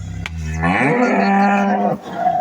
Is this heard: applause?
no